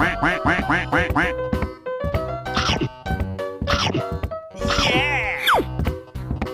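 A duck in a 3D animal slide video game quacks in a quick, rhythmic series of loud nasal calls, with a voice imitating the quacks in a sing-song pattern.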